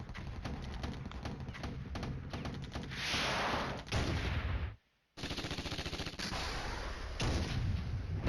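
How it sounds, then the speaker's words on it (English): Artillery fire in the wargame Flashpoint Campaigns: Red Storm, dense rolling booms and crackling blasts filling the scene with a short silent gap midway, heard without talk. "maybe I did do a good thing throwing that artillery there"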